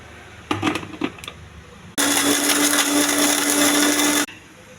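A mixer grinder blends coconut chutney with salt, tamarind water and green chillies: a few light clinks first, then a loud, steady motor whir running about two seconds before cutting off abruptly.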